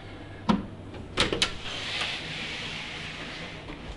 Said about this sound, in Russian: смотрите, вот такая вот защелочка.